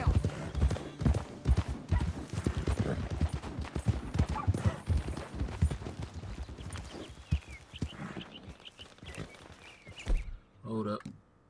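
A horse clip-clops at a quick steady pace in Red Dead Redemption 2, the close hoofbeats slowing and fading before a brief whinny, with someone talking intermittently over them.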